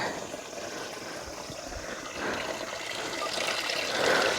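Cold mountain water pours steadily from a pipe at a campsite near Manali, Himachal Pradesh, a close, continuous trickling splash with no voices.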